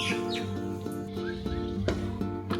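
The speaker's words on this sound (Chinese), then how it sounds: "你们能听见鸟叫吗？" Birds chirping outdoors on a rainy day in Wanning, Hainan, with repeated short tweets and calls over a steady background hiss, moderately faint and heard without talk.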